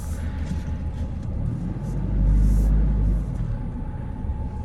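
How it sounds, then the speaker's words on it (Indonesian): The deep diesel engine of a 2013 Ford Ranger XLS 2.2 pickup rumbles steadily as it drives in first gear, swelling louder midway through before settling back to a low drone. "Masih mantep suaranya dieselnya"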